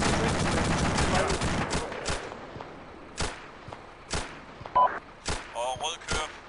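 Gunfire in a military video game starts as a dense burst, then thins into scattered sharp single shots at irregular intervals, some nearer and some fainter, with brief voice sounds in between.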